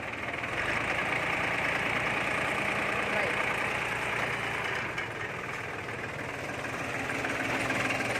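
A walk-behind tractor engine idles with a steady, rough mid-pitched drone and vibration throughout, close by, while voices talk faintly underneath.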